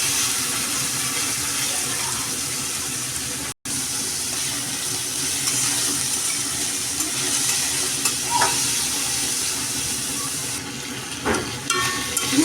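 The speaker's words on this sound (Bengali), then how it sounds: "এটা এখন সুন্দর করে আমি তেলের মধ্যে ভেজে নেবো" Spiced chicken pieces fry in hot oil for making pasta, giving a steady, close sizzle that runs unbroken for most of the stretch apart from one brief dropout, with faint clinks and stirring near the end.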